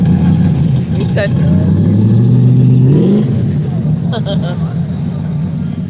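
A Chevrolet C10 pickup at a rod run car show revs its engine, a deep rising roar that builds and then drops, loud and close, with crowd chatter around it.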